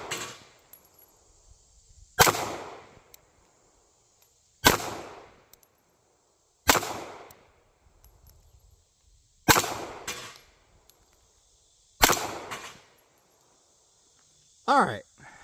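A .380 micro pistol fires single sharp shots at targets outdoors, about six evenly spaced cracks, each with a short decaying echo, followed by a faint metallic clink.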